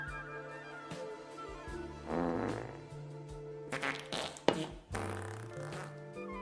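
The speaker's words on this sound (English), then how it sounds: "they said the coughing is fine, but not the fart noises" Fart noises, several in sequence with low droning tones, thuds and sharp bursts near the end, fairly loud and up close.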